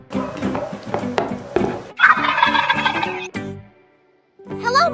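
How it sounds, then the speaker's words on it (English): A Peppa Pig toy turkey plays a loud, bubbling electronic gobble in rapid repeated bursts, stops briefly, then starts another gobble. "This is the turkey."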